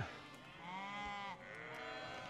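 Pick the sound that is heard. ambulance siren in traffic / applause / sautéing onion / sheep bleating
sheep bleating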